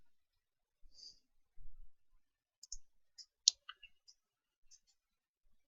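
A computer mouse gives a handful of soft, isolated clicks in an otherwise near-silent room, spaced irregularly.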